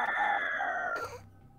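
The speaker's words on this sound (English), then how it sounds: "you hear this almighty squawk that echoes out into the sky" A single loud, strained squawk from a huge flying creature rings out nearby, a harsh rooster-like cry that breaks off abruptly with no voices.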